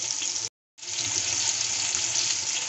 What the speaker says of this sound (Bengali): তেল গরম হয়ে গেছে, দিয়ে দিচ্ছি জিরে ফোড়ন